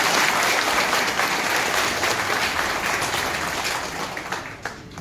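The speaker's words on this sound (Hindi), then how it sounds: "जोरदार तालियां बजाइए" Police constable trainees in a meeting hall give loud, dense applause that holds steady for several seconds and then thins slightly toward the end.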